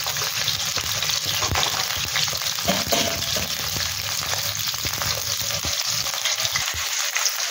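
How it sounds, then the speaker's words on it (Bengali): Potatoes fry in a pan with salt and turmeric, giving a steady, close sizzle with scattered crackles and occasional soft stirring clicks throughout. "আলুটাকে একটু বেশ ভালো লাল করে ভেজে নেব"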